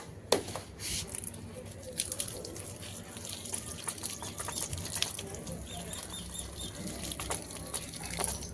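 Rooftop garden plants in a hot Delhi summer are watered, with a faint, steady splash and trickle of running water and a few soft knocks and rustles, nearby but quiet.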